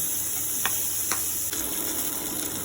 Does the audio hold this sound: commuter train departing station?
no